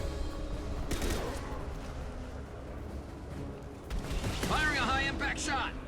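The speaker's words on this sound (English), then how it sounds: "Firing a high-impact shot." A high-impact shot fires in Mass Effect, a heavy boom near the start followed by rumbling low noise, with a whooshing, warbling effect rising toward the end amid game ambience.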